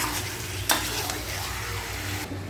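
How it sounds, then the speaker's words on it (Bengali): Meat being stirred as it cooks in a pot, a close, steady sizzle broken by scraping strokes of a spoon and a sharp clank against the pot, with no voices. "দেখো নেড়ে নিচ্ছি"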